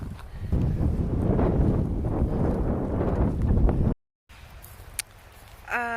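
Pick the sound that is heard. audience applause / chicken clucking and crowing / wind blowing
wind blowing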